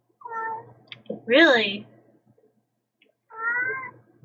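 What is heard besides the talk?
cat meowing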